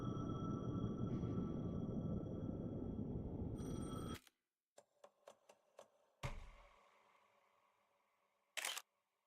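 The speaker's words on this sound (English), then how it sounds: "The payphone was ringing." A payphone rings in the dark thriller game Alan Wake 2: a loud, dense ringing for about four seconds, then scattered sharp clicks and a short final burst.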